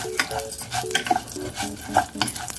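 Dry rice frying and being stirred in a pan, a steady sizzle broken by repeated scraping strokes of a utensil against the pan, close and fairly loud with no talking.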